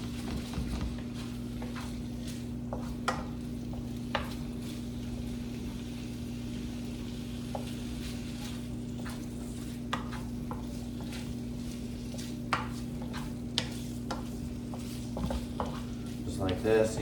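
Chicken pieces for fajitas sizzle softly in a pan, stirred now and then with a few scrapes and clicks of a utensil over a steady hum.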